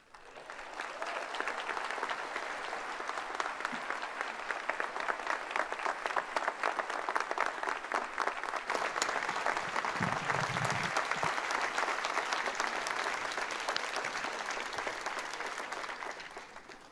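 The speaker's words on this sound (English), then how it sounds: "Let's give her another round of applause" Sustained applause from a large audience at a Brazosport College commencement ceremony, dense steady clapping that fills the hall for the whole stretch, with a brief low murmur partway through.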